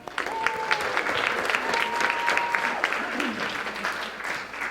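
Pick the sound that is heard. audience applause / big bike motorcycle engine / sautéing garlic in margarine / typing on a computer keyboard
audience applause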